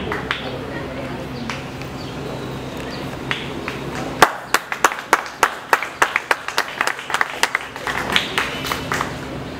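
Applause for graduates at a graduation ceremony in Cap-Haïtien, starting as a crowd murmur with scattered claps, then turning into distinct, sharp individual claps in an uneven rhythm, fairly near.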